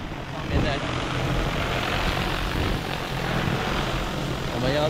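A DJI T20 agricultural drone flies low over a durian orchard while spraying, its rotors giving a loud, steady buzzing drone close overhead that persists throughout.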